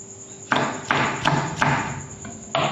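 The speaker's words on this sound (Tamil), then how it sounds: "பச்சை மிளகாயும் இந்த மாதிரி ஸ்லைஸ் கட் பண்ணிக்க வேண்டியதுதான்" Knife slicing green chillies on a cutting board, four or five sharp chopping knocks spaced about half a second apart, close and clear over a faint steady background hum.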